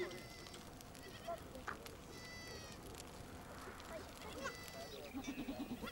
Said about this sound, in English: Every morning before setting off for the mountains, they count the sheep.